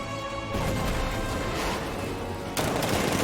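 The Batmobile's cannon fires in the video game Batman: Arkham Knight, loud, dense blasts of gunfire and heavy impacts, with a sharp fresh burst near the end.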